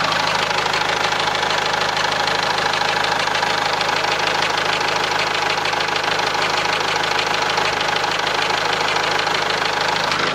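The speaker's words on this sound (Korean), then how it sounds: "엔진 소리 들어보도록 하겠습니다." A diesel car engine idles steadily with the hood open, a continuous close-up clatter and hum at an even, unchanging level with no talking.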